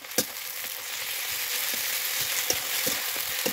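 A paste of garlic, ginger, cumin and dried chilli sizzles steadily in a pan, with occasional light clicks and pops over the constant hiss.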